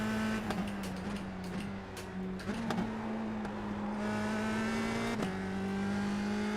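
A race car engine in the iRacing sim drones at a steady pitch, dipping briefly at several gear changes, moderately quiet and continuous with no talking.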